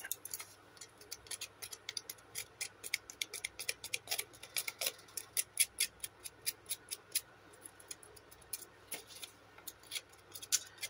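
Rapid, crisp snipping of scissors through paper, a quick run of sharp clicks close by, steady throughout with no voices.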